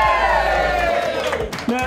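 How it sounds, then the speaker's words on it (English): An audience at an amateur awards-night red carpet cheers and whoops in a loud, close burst of crowd noise, with a raised voice rising above the din. "Give yourselves a round of applause."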